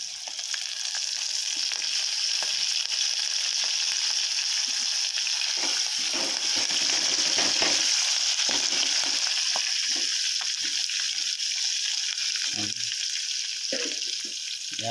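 Curry leaves frying in a pan for a village-style chicken curry, giving a steady, dense sizzle and crackle that holds throughout, with occasional stirring scrapes close by and no talking.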